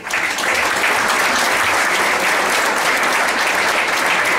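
A large audience gives a real big round of applause for a performer named Rod at a live show, dense steady clapping that rises in the first moments and holds loud and even throughout with no talking.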